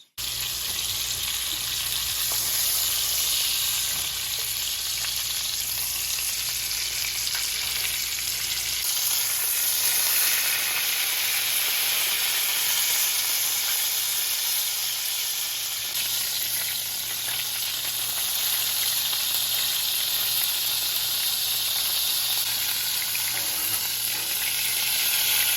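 German rouladen sear in a hot pan, producing a loud, unbroken sizzling hiss that holds steady for the whole stretch, close up with faint background hum and no voices.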